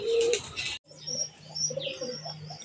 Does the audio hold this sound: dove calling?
yes